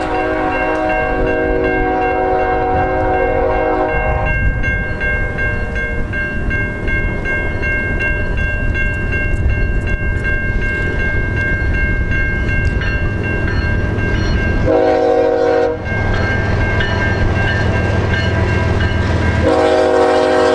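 A CN manifest freight train led by BNSF locomotives rumbles steadily past at close range, its horn sounding in sustained tones through much of the passage, with no voices.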